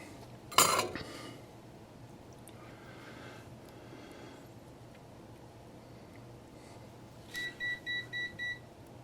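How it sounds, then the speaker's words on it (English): A multimeter beeps in a short run of four or five clear electronic tones near the end, after a sharp clatter early on, during model locomotive DCC wiring work on an Athearn SD70MAC; no one speaks. "My meter, multimeter going off."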